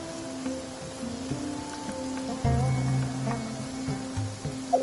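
Steady rain falling in the video game Genshin Impact, a soft continuous patter that sits under tonal game music and a few small interface chimes.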